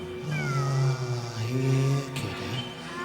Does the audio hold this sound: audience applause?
no